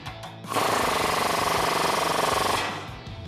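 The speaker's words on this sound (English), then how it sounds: "Next, we can tighten up this lower bolt here. I'm gonna use a 19mm deep socket." A power tool with a 19mm deep socket tightens a lower front suspension bolt on a 2005-2021 Toyota Tacoma 4WD during a lift kit install, producing one loud, close, rattling hammering burst of about two seconds.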